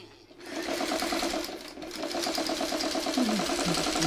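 A sewing machine runs steadily while stitching a seam on a quilt block, a continuous close mechanical whir with a rapid needle rhythm that starts after a brief pause and keeps going to the end.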